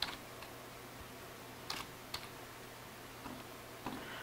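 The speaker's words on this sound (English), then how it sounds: "I'll just type in Hall." Keys tapped on a computer keyboard in a few soft, scattered clicks with gaps between them, faint and close against a quiet room hiss, with no talking.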